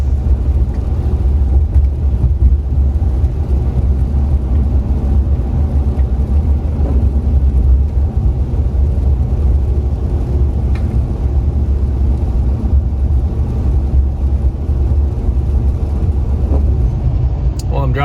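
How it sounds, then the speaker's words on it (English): Car driving on winding mountain roads in northeast Georgia, a steady loud low engine and road rumble that continues unbroken for the whole stretch, with no other sound standing out. "Driving through the mountains of northeast Georgia."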